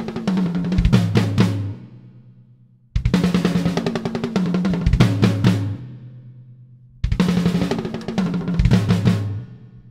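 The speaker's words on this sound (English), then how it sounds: "And then three hits on the floor and snare." Quick drum fills on a kit's bass drum, floor tom and snare, in three dense bursts of rapid hits, each ending with heavier low tom and kick strokes that ring out before the next burst. Close and loud, with no talking.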